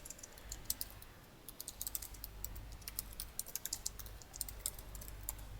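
Quiet, close typing on a computer keyboard, a steady patter of light key clicks in irregular bursts with brief pauses and no speech.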